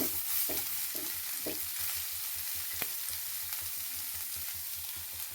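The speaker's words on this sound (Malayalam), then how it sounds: "ഇനി ഇത് ഞാനൊന്ന് ഇളക്കട്ടെ." Leaves frying in coconut oil with mustard seeds, onion and dried red chilli are stirred in a pan, giving a steady close sizzle broken by several soft scraping strokes of the spoon in the first half.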